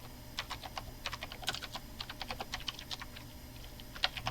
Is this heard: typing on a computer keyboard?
yes